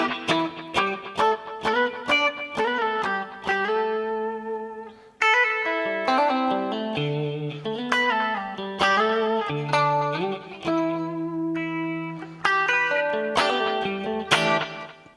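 Electric guitar plays the opening bars of a song, a melodic line with octave notes, stabs and sustained chords, clean with chorus and reverb effects, close and steady with no talking.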